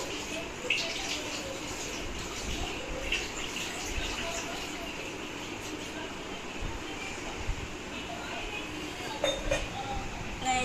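Water pours and splashes continuously over a Ganesh idol being bathed at home, a steady broadband wash with light clinks of metal vessels and a few brighter splashes throughout.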